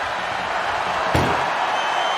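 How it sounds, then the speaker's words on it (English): An ambulance door slams shut in the WWE 2K25 wrestling video game, a single sharp thud over a constant crowd roar. "The door is closed."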